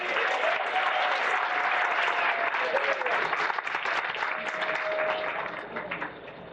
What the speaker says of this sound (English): Let's have a nice round of applause for Mr. Jerry Zahara.